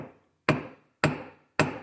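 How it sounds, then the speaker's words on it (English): Three light, evenly spaced metallic taps of a ball peen hammer striking a straight razor on an anvil, each a crisp close hit that rings out briefly, with no talk. "We're gonna do is we're gonna tap it, and we're gonna go hit it like lightly, but we're gonna make the ball ping hammer travel like this way"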